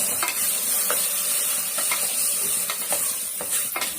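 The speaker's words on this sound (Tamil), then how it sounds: "அதை நல்லா வதக்கிக்கலாம்" Mutton head meat sautéing in a pan, a steady close sizzle and hiss with periodic scrapes and stirs every half second or so, continuous throughout.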